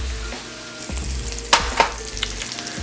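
Meat for gravy browns in a hot pan with a steady low sizzle, broken by a few sharp scraping stirs near the middle, close and unaccompanied by talk.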